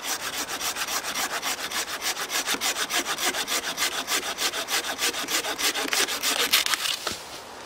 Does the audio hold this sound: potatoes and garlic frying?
no